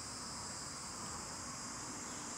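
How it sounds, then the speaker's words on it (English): Cicadas drone loudly and continuously in trees at Kamphaeng Phet Historical Park in Thailand, a dense, unbroken high-pitched buzz with no pauses. "Hear the cicadas buzzing. They're so loud."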